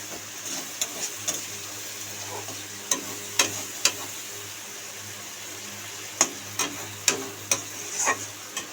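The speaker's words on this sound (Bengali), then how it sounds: "মশলাটা তেল ছাড়ছে, মানে ভাজা হয়ে গেছে মশলাটা" Spice paste frying in oil in a home kitchen pan, a faint soft sizzle with scattered sharp clicks and taps of stirring at irregular intervals.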